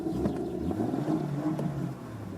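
A 2016 BMW M2 in 410 hp Competition spec revs briefly, its engine note rising and falling in a couple of throaty surges, close and fairly loud, without speech.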